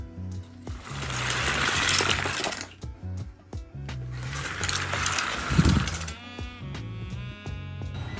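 3D printers printing body sections and the head of an animatronic Ekans snake, giving a steady mechanical whir and buzz with rising and falling motor tones and scattered clicks, fairly close and continuous.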